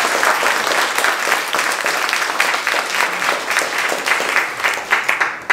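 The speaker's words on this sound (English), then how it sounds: "give the team just a round of applause" An audience at a spring awards ceremony for a women's writing nonprofit breaks into close, loud, sustained applause, with dense clapping that keeps a steady level and swells slightly near the end.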